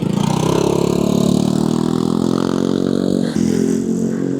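A Treno 3 electric mountain bike motor whines steadily and loudly while climbing a hill in Marikina Heights, a close, continuous strained drone with a slight pitch shift near the end.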